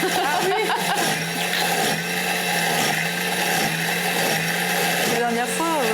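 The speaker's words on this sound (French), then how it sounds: "Au pied mixeur." A hand blender whirs continuously while blending homemade mustard, its motor drone steady and close, with voices talking over it.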